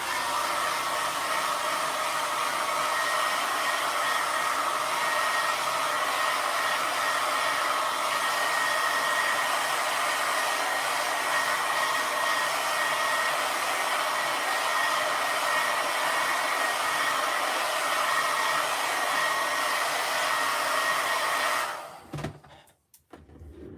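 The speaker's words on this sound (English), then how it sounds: "So one last time for today, I'm gonna go and dry my page." A hair dryer blows on a watercolor painting page, a loud continuous whooshing roar for over twenty seconds before it clicks off into quiet handling noise.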